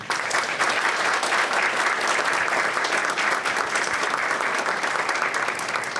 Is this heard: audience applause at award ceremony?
yes